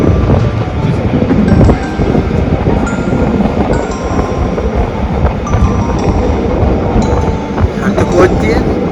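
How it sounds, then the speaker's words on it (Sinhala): A red passenger train running from Italy to Switzerland makes a loud, continuous rumble, heard from on board with heavy wind buffeting and occasional faint high squeals. "රතු කෝච්චිය"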